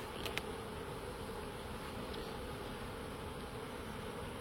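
Honeybees buzzing around a hive during colony reinforcement, a soft steady swarm drone with a couple of brief close passes near the start.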